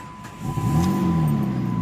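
Car engine catching and settling into a steady idle after a jump start from a Viking compact power pack, a low rumble swelling after the first half second and holding close and even with no talk.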